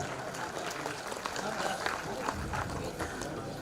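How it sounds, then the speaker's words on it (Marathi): An audience at an outdoor stage event in Maharashtra claps loudly and steadily, a dense wash of applause with a few louder claps standing out, and voices mixed in underneath. "जोरदार टाळ्या वाजवू आपण"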